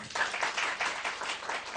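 A crowd applauds after a folk song, a brief burst of fairly faint, distant clapping lasting under two seconds.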